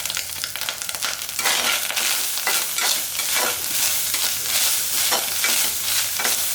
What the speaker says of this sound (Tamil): இந்த அளவுக்கு வதக்கினா போதும்,